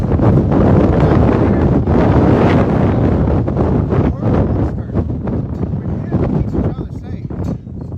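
Heavy wind buffets the microphone outdoors at a horse arena in loud, rumbling gusts that ease slightly toward the end, with a voice faintly present beneath.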